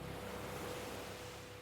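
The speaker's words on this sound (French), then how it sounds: "le bruit des vagues" Ocean waves wash in a soft, continuous surf hiss, distant and faint, with no voices over the steady seaside ambience.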